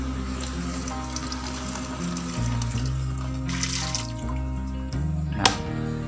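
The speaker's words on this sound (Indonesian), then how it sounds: "Kemudian kita tambahkan air ya," Water is poured from a container onto cement, giving a steady splashing trickle that holds at a constant level, close by, with a brief sharper splash near the end.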